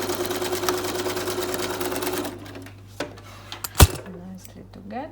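Sewing machine stitching a curved seam on a fabric face mask, with a steady mechanical run for about two seconds that then stops, followed by a few brief clicks and handling knocks.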